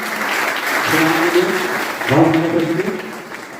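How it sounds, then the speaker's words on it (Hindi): Loud applause from an audience at a school orientation program, continuous clapping swelling midway, with someone speaking briefly over it. "एक बार जोरदार तालियां हो जाए।"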